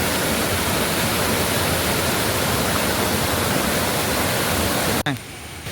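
Waterfall near Kallil Bhagavathi temple, a loud, dense, unbroken roar of falling water close by that cuts off abruptly near the end, leaving quieter ambience.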